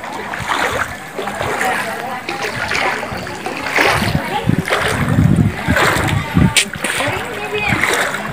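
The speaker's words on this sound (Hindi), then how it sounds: "गली के अंदर भी पूरा पानी भरा हुआ है" Floodwater sloshing and splashing continuously in a flooded street near houses in Gokak, India, with voices talking over the churning water throughout.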